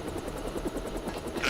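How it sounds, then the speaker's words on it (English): Helicopter flying in, from the video game Deus Ex GMDX: a steady, fast rotor chop with a rhythmic pulsing beat under a loud engine drone, heard alone without talk. "Locked on the chopper and had the nav computer fly straight in."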